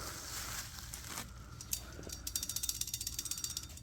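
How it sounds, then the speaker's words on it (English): The floating pins, or buttons, on a new Brembo brake rotor for a BMW S1000RR rattle as the disc is moved, giving a quiet run of rapid, close metallic clicks toward the end. "So your pins here, your buttons as they're called, these little pieces here, you can hear it moving around."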